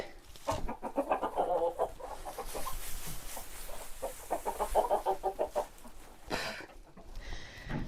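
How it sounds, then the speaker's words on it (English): Chickens in a northern farm barn cluck and squawk in repeated bursts, fairly close and continuous, with some rustling between calls. "These dang chickens."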